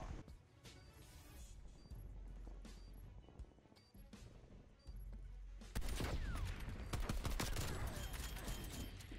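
Gunfire in a Call of Duty Search and Destroy match comes as bursts of sharp, close shots and crashing impacts, growing louder and denser toward the end.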